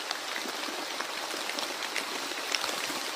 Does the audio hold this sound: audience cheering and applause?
no